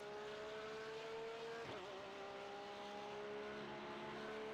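A Porsche 911 GT3 R engine at Imola in iRacing hums at a steady, fairly faint pitch, with a brief shift in tone partway through before it settles again.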